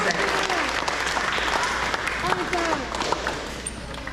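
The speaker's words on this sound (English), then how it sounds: "Let's give them a clap for that. A round of applause." Applause for third grade students at an elementary school awards ceremony for grades 3–5: continuous clapping from an audience, with voices heard faintly through the noise.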